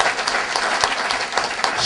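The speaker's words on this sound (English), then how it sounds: "Let's give a round of applause to Maurice Kane." Brief, steady applause from the audience at a Pan-Africanist forum, many hands clapping close together at an even loudness for about two seconds.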